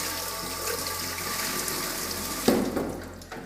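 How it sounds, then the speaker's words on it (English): A tap runs steadily over a rubber part from a Jura Giga X7 coffee machine as it is rinsed, with a sharper splash near the end. "there's a rubber thing on the back there, we just give that a rinse out"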